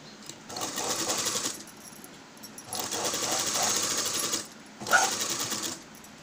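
A sewing machine stitches a blouse neckline in three separate runs, each a steady, whirring needle drone that stops cleanly between passes, heard up close with quiet gaps in between.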